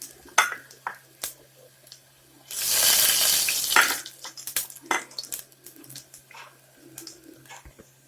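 Coriander seeds drop into a hot pan with cardamom for banana stem soup, giving a loud burst of sizzling for about a second, surrounded by scattered clinks and taps of utensils against the pan.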